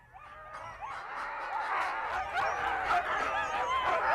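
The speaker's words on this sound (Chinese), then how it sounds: "哈士奇是培育成雪橇犬，一天能拉雪橇走100里" Husky sled dogs bred to haul sleds long distances make a busy chorus of yips, whines and barks that rises and stays dense and fairly loud throughout, with no talk over it.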